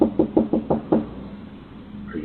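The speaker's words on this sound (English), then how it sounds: "ringing the doorbell and knocking at the door" Six quick knocks on a door ring out close and sharp in a steady rhythm, followed by a brief quiet pause.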